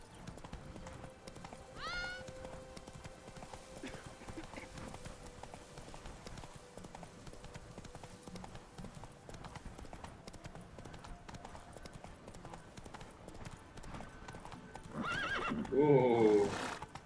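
Roach the horse in The Witcher 3: Wild Hunt at Castle Ravello, hooves clip-clopping steadily throughout, with a loud neigh bursting out near the end over game ambience.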